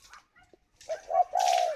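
Spotted dove cooing, a few soft, low coos building to a longer, louder call near the end, close by with faint background sounds before.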